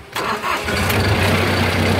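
Engine of a CA135 rice combine harvester cranking and catching, then settling into a steady, loud, low idle that fills the rest of the moment, with no talking.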